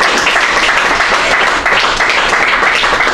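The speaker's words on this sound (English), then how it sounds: "While you guys clap for us" An audience claps after a presentation on cybersecurity in the Internet of Things, dense, loud and continuous applause from many hands filling the room without a break.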